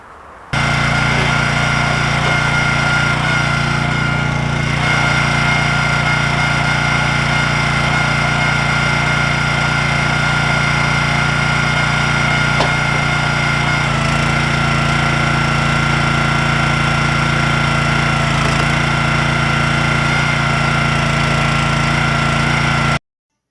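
An engine-powered firewood splitter runs steadily on a homestead, its motor droning loud and close for over twenty seconds, the pitch shifting slightly partway through as the splitter works.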